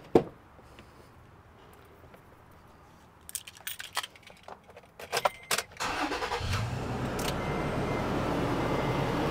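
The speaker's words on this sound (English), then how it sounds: "let's fire up the truck" Keys jingle and rattle, then a Toyota Tacoma pickup engine cranks and catches, settling into a steady, loud idle rumble.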